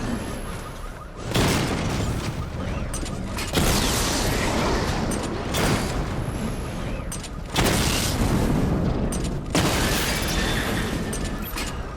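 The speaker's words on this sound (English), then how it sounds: "Charge the missile barrage to level 2 to destroy up to 4 targets at once." In the video game Batman Arkham Knight, missile barrage explosions arrive in four loud, booming bursts, each several seconds long, separated by brief gaps.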